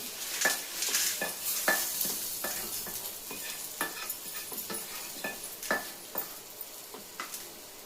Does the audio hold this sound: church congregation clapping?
no